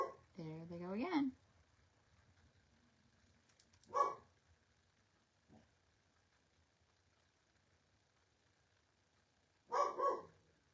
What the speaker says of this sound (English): That's my husband's dog.